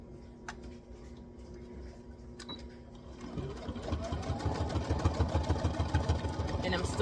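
A domestic sewing machine stitches along a seam allowance line on fabric cut from vintage bed sheets. It starts quiet and then runs as a steady, rapid, close mechanical chatter from about midway to the end.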